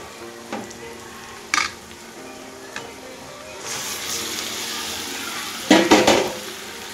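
Mutton pieces drop into frying masala in a pan for a home-style curry, giving a rising sizzle with a few clinks of utensils and a loud burst of spattering near the end.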